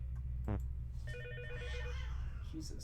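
A phone rings in the Five Nights at Freddy's game, a brief warbling electronic trill of a few repeated pulses, moderately loud, with a voice speaking over the game sounds.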